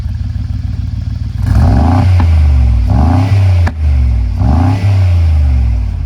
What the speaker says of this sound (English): So when you're revving it, it sounds like it's got like a misfire.